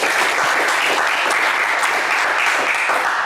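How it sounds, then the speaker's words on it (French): A studio audience at a French television game show applauds loudly and steadily, a dense continuous wash of clapping that holds at full strength throughout. "Et on vous applaudit très fort."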